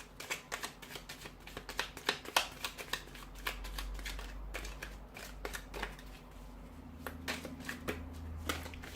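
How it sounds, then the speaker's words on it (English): Tarot cards are shuffled repeatedly, a quick flurry of crisp riffling and flicking close up, with a low hum underneath. "So we'll give the cards a shuffle"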